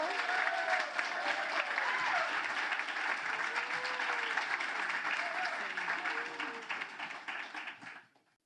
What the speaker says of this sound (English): So a round of applause to Carmen Garcia Hall.